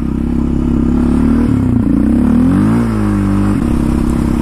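An Indian Scout Sixty motorcycle pulls away, its loud, close engine note rising and shifting as the rider accelerates, with no one speaking over it.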